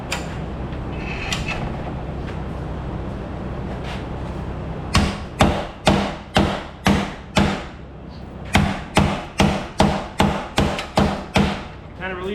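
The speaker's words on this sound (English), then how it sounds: "we can crack it with a hammer." Hammer blows striking a stuck part on a deer-damaged Honda Accord under repair, two quick runs of sharp, evenly spaced metallic hits, about six and five strikes, loud and close over a steady background hum.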